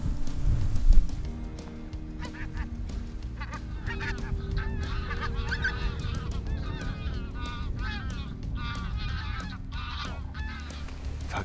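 Wild pinkfoot geese call in flight overhead at a shooting spot: many overlapping honks from a passing skein, fairly far off, over a constant low background rumble.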